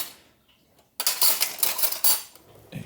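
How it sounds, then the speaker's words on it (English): Metal spoons and utensils pulled from a kitchen drawer, a bright burst of clinking and rattling cutlery, close and fairly loud after a quiet start. "Now get out my utensils."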